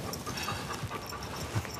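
A dog pants steadily and close by in a quiet room, a soft continuous breathy rhythm with a few faint whimper-like bumps and no talking.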